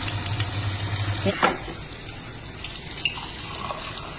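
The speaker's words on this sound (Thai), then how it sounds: "ล้างแก้ว" Glasses being washed under a running tap, a steady close splash of water with a few small clinks and knocks, and a brief low hum early on.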